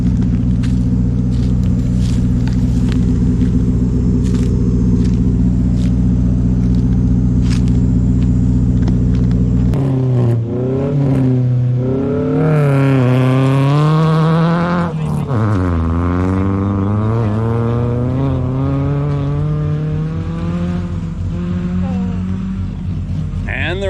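Rally car engines rumble and rev at a start line beside Thailand rice fields, a steady idle for several seconds before one car revs hard, its rising and falling engine note roaring nearby as it pulls away.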